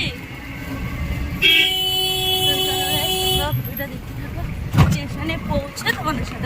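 Busy street traffic heard during a rickshaw ride to a railway station: a long car horn blast rings out for about two seconds over steady road rumble, with voices talking nearby and a brief thump near the end.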